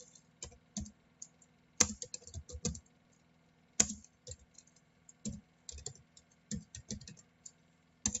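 Typing on a computer keyboard to enter an SSH command: quiet, close, irregular key clicks in short bursts with a couple of sharper key strikes and near-silence between them.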